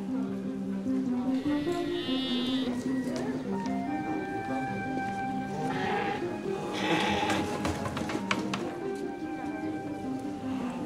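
A flock of sheep bleats repeatedly, the wavering cries rising and overlapping across the scene while a narrator's voice carries on over them.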